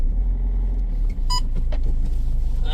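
A Ford Figo Freestyle diesel car reverses and turns in a garage: an even, low engine rumble close by, with a brief click and faint beep partway through.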